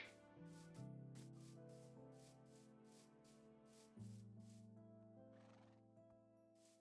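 Epona, a horse in a video game, neighs over a looping game melody with sustained tones, the whinny blending into the music rather than standing out clearly.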